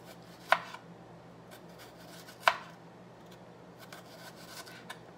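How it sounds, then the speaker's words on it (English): A kitchen knife slices a shallot into thin pieces on a cutting board, two sharp crisp cuts standing out over a quiet room hum with faint softer strokes between them. "Use your claw over here, and then just make really thin slices here"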